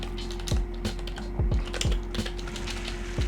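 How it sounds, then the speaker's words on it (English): Keys on a computer keyboard are tapped in an irregular series of sharp, close clicks, about eight distinct presses spaced unevenly over a few seconds against a faint steady hum. "Let me go ahead and type that in."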